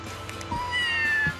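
A kitten in the game Scribblenauts Unlimited gives a short, clear meow with a rising, drawn-out tone, close and alone, lasting about a second.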